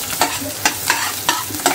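Whole spices, coriander seeds and ginger fry in hot oil for shevla bhaji. A spoon scrapes and stirs in several sharp, regular strokes over a constant sizzle.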